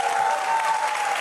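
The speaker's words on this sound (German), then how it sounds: "Großen Applaus für Michael Schwarz." A studio audience on a German cooking competition show breaks into applause, a short, dense wash of many hands clapping at a steady, fairly loud level.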